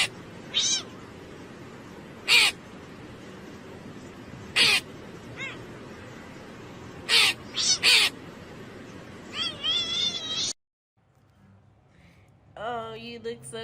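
A cat meows repeatedly in short, loud, separate calls, several in quick succession, with a stretch of quieter room sound and a brief voice near the end.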